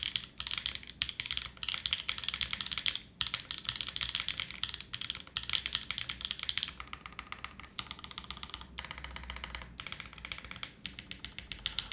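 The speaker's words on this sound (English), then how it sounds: "The alphas sound great. This is a clean sounding Alice board." Rapid, steady typing on an Alice-style mechanical keyboard, a clean, crisp stream of close keystrokes with short pauses, alone with no talking.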